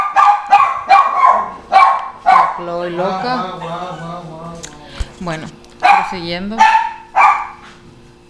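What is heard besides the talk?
dog barking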